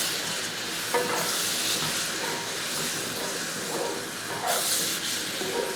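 Beef ularthu, Kerala style, is stirred in a non-stick pan: a steady close sizzle and hiss, broken by a few louder scraping stirs.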